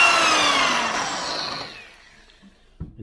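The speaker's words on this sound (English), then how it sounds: "That's pocket hole drilling." A power drill bores a pocket hole into flat wood, a loud high whir that winds down and fades over about two seconds, followed by quiet and a few soft knocks near the end.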